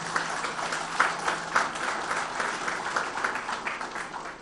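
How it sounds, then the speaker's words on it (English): An audience claps steadily, a dense patter of many hands that continues evenly throughout with a few louder claps standing out. "very warm round of applause for this."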